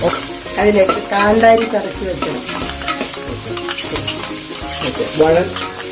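Onions frying in a pan for a Kerala beef dish, a continuous sizzle with a spatula stirring and scraping in irregular strokes, close and fairly loud, with a tonal hum or music faintly underneath.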